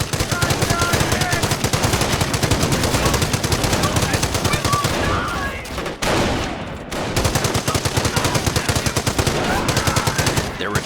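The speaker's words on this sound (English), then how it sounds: "The MG emplacement is suppressing the enemy troops." Machine gun fire from an MG emplacement in the Company of Heroes strategy game, long rapid loud bursts with a short pause in the middle before firing resumes, under faint game voices.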